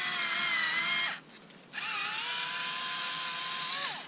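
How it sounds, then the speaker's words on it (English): A Black & Decker cordless screwdriver driving a screw, its motor whining steadily and loud up close, cutting out briefly for about half a second, then spinning up again and slowing near the end. "We don't need much of a screwdriver to screw through here"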